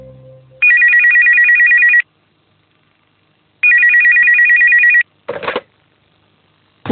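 A telephone rings loudly and clearly indoors in two long electronic bursts separated by silence, followed by short bumps of handling noise.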